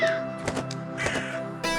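A crow caws several times in quick succession, harsh nasal calls close by and fairly loud, with nothing else in the background.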